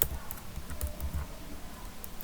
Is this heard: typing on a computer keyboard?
yes